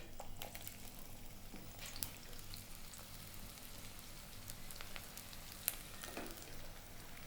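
Thin sliced onion frying in hot coconut oil, a faint steady sizzle that runs on without pause and carries a couple of small clicks from the pan.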